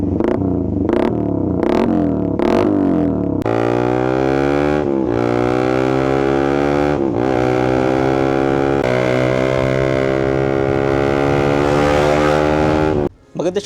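A Suzuki GSX 150 motorcycle with a Vmax exhaust revs loudly, short sharp blips at first and then long sustained high-rev runs that rise and dip, close and harsh, ending in a sudden cut.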